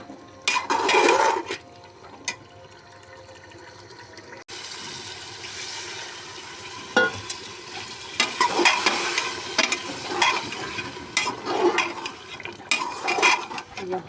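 Beef pieces frying with spices for aloo gosht, a loud bubbling sizzle with intermittent stirring scrapes and pot clatter, close by and steady after a brief pause.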